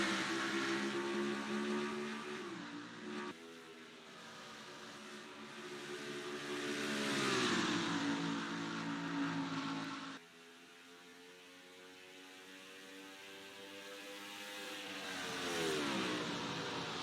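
Race cars in a racing video game accelerate at the start of an oval race at Pikes Peak, their engines revving up in rising, wavering pitch sweeps as they pass, with no voices.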